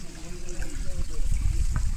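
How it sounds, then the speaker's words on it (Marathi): Water flows steadily in a small stream, a continuous close trickling and rushing wash with people talking over it. "पाणी असा वाहत आहे. छोटासा झरा."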